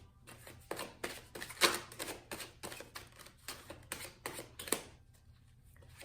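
Quiet, close card shuffling: a string of short papery riffles and flicks in an uneven rhythm.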